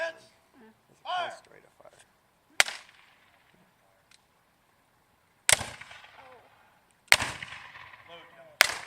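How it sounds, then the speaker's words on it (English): Civil War reenactors fire muskets one after another by file, giving four sharp, loud, booming reports at uneven intervals, each with a short decaying tail. A brief shouted voice comes early, between stretches of near silence. "All right, so we're going to do a fire by file."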